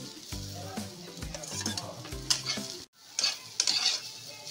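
Potato pieces tipped into bitter gourd frying in a pan and stirred, giving a steady sizzle with several knocking scrapes of the spoon, then a brief pause before the sizzling and stirring resume, close up.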